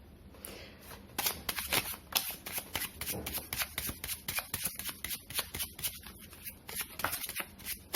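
Tarot cards are shuffled up close with no talking: quick, riffling flutters and soft slaps of card stock in a rapid, uneven rhythm that stays fairly quiet.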